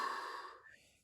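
A long, breathy inhale during a full-body resistance band workout, loud and close, rising then tapering off over about a second with no talk.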